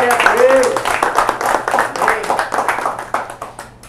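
A congregation at a Portuguese-language church men's meeting claps together in a quick, rhythmic burst that fades over a few seconds, with voices speaking over the clapping.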